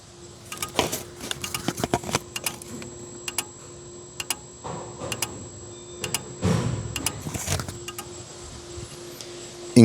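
A faulty turbo actuator on a BMW 520d E60 diesel makes irregular close-up ticking and clicking, with short whirring bursts between the clicks and no voices.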